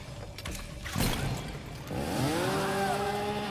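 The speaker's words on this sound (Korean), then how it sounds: "전기톱에 힘을 과시하네" Leatherface's chainsaw revs in Mortal Kombat XL, a loud buzzing motor whine that climbs in pitch, mixed with fighting-game impacts and clatter.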